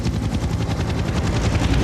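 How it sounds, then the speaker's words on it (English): Helicopters passing overhead, a loud, steady rotor chop with rapid rhythmic thumping that fills the whole stretch, heard alone without voices. "Zahid, do you hear some helicopters?"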